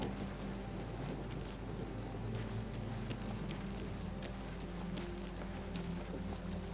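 Rain in the video game Oblivion Remastered, a soft, steady hiss of rainfall with a low rumble underneath, faint and unbroken, no voices.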